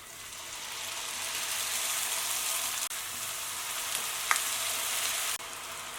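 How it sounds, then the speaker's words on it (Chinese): Dumpling-wrapper dough pieces deep-frying in plenty of cooking oil over medium-low heat, a steady broadband sizzle and bubbling that holds level throughout, close and alone with no talk. "我们全程中小火慢炸，火不要太大，防止炸糊。"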